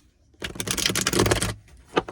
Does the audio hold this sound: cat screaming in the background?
no